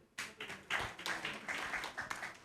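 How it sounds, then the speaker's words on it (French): On a children's holiday contest semi-final stage, a small audience claps for a singer: scattered, uneven hand claps, fairly quiet and close, lasting a couple of seconds. "on l'applaudit très très fort"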